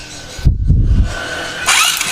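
A Honda Karisma motorcycle with a newly replaced cylinder block and an ignition fault gets a short burst of starter cranking that catches briefly and then fades into a hiss, heard close and alone.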